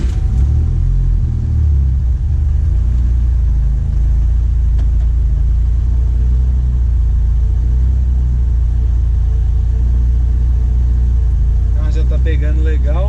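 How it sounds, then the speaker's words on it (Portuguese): A warm VW Saveiro G3 2.0 turbo with an HX40 turbocharger and FT400 engine management idles after starting, giving a steady, close, deep rumble that holds evenly throughout. "Eu estou acertando primeiro a partida do carro."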